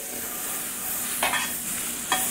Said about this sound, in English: You can hear the skillet as I put it in there